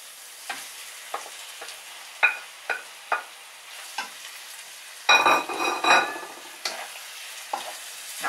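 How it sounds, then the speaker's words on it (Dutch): Chicken fillet going into a pan of onion, garlic and ginger for an African chicken curry, with the clatter of stirring and scattered sizzling bursts that swell into a louder frying hiss midway. "En nu gaat kipfilet erbij."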